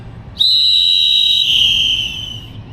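A traffic officer's single long, piercing whistle blast sounds close and loud, holding steady for about two seconds before cutting off.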